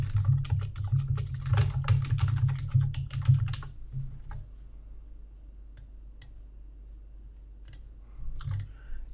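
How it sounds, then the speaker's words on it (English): Quick typing on a computer keyboard, dense clicking keystrokes for about four seconds, then sparse isolated key presses with quiet gaps, close and fairly soft with no speech. "you just press the Enter key on your keyboard"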